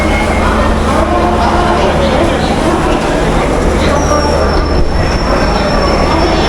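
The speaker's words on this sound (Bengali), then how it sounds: "আটটার মেদিনীপুর লোকাল" A Medinipur local train pulls into a platform at Howrah station, its wheels rumbling and squealing loudly and steadily close by, with a long high screech near the end and some station voices underneath.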